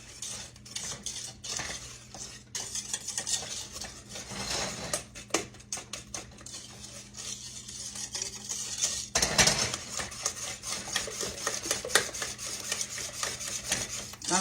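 Cornstarch being stirred in a pot for old-fashioned banana pudding, a utensil scraping and clinking against the metal in a quick steady rhythm, close and moderately loud with no talk.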